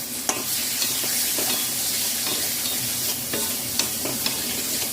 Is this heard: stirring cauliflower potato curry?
yes